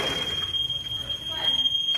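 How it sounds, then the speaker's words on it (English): A house alarm at the front door in Florida sounds a steady high-pitched electronic beep, broken into short pulses, continuous over people talking nearby. "I don't know how to get in without the alarm."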